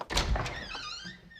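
A door swinging open in a Hindi sitcom home, giving a single close thunk followed by a brief creak that fades quickly.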